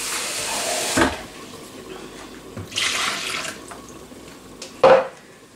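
Tap water runs in short bursts into a mixing bowl of eggs and salt for dumpling dough, three brief splashy pours close by with quiet kitchen room tone between them.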